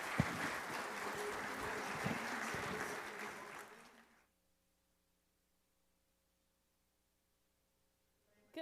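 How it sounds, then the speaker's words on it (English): An audience at a disaster-recovery conference general session applauds a speaker, a steady dense clapping for about four seconds that cuts off abruptly into near silence. "Let's give her a round of applause."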